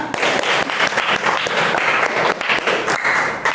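A classroom of students claps together, a loud, dense burst of hand claps that fills the room steadily throughout with no pause.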